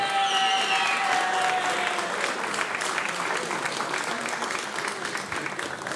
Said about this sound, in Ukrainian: Оплески хлопцям.